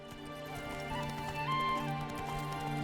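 Hoofbeats of the horse Roach in the video game The Witcher 3, a steady rhythmic clip-clop of trotting hooves, close and clear over a droning musical background, with no talk.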